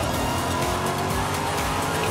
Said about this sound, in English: Here's the Lambo.